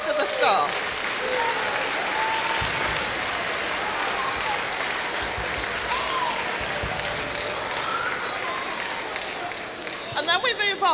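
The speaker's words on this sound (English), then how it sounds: "So let's have another round of applause for those that join in the rest of the staff." A school carol concert audience gives a sustained round of applause for the staff, dense and even clapping that fills the room and swells slightly at the end, with voices mixed in.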